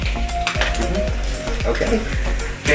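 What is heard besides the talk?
black pudding frying in oil in a pan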